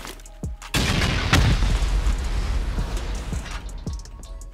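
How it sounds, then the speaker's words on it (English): HE rockets from a video game hit turrets in a loud, close blast with a long rumbling tail, and further sharp bangs and thuds follow as the roar fades. "Okay, HE rockets here."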